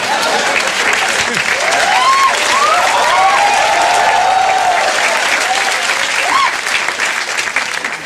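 Loud, sustained applause from a large stand-up comedy audience, clapping steadily throughout with some cheers and whoops mixed in.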